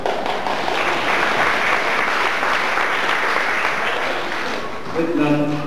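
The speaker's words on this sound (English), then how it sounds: "Sometimes they even applaud when I do nothing." Audience at a 1987 Kiwanis show bursts into loud, sustained applause for a performer, a dense wash of clapping that holds steady for several seconds before thinning near the end.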